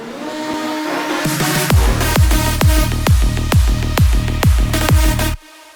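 A heavy, droning war-horn synth swells underneath while sharp triplet snare hits strike in a steady rapid rhythm in a big room psytrance drop, then everything cuts off abruptly.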